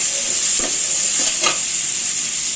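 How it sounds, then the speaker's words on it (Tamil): Onions and vegetables sauté with salt in a hot pan, giving a steady, loud sizzle with a few soft stirring scrapes, close and with no talk. "நம்ம வெங்காயத்தில் கொஞ்சம் சால்ட்டு போட்டு வதக்கலாம்"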